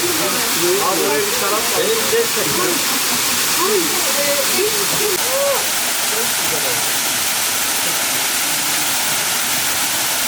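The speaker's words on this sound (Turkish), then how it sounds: "Aydın Pınar Şelalesi'ni gerçekten çok beğendim." Aydın Pınar waterfall in Düzce gives a steady, broadband rush of falling water that fills the whole stretch, with human voices heard over it during the first half.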